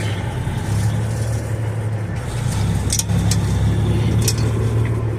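A 2007 Peterbilt 379 flattop truck strains to pull away with a stuck brake, its engine a loud, steady low drone that swells slightly partway through, with no talking over it.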